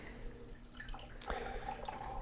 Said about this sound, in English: See my overflow's draining.